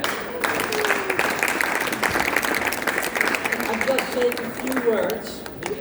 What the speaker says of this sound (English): One big applause